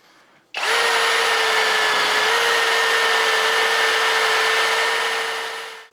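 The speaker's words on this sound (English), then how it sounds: "I'm just gonna clean the flange up with a wire wheel." A wire wheel on a power tool scrubs a flange on a Rover 216i car, a steady loud high-pitched whir that starts abruptly and runs continuously for several seconds before easing off, with no talking.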